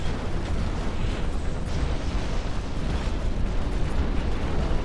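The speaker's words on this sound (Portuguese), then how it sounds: "Os disparos do discípulo são muito fortes, cara." Weapon fire and explosions from the mech strategy video game Phantom Brigade, a dense continuous rumble of blasts and bursts at steady loudness with no clear gaps.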